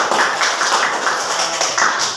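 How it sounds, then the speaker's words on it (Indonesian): A small class claps for a classmate during an Indonesian-language microteaching lesson, a steady patter of hands lasting about two seconds with no voices over it. "tuh beri tepuk tangannya."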